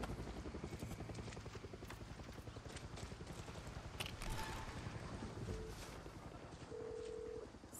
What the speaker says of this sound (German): Ein Heli.